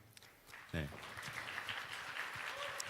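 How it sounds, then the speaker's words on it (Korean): Applause from a standing church congregation at a Full Gospel opening service, a dense wash of clapping that swells quickly and holds steady, with a voice briefly audible at the start. "우리 큰 박수 한번 같이 드릴까요?"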